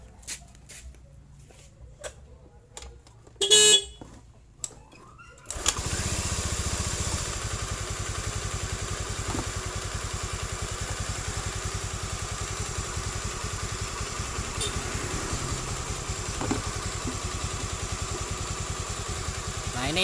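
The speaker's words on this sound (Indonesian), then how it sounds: "Ini kunci kontak on, kita akan coba hidupkan motornya." A Honda Beat injection motorcycle sits quiet with a few small clicks and a brief electronic beep, then its engine starts and settles into a steady, close, mildly clattering idle that continues unbroken.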